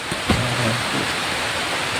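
Heavy rain pours in a steady, dense hiss, with a brief thump and a short low tonal hum near the start, no speech heard.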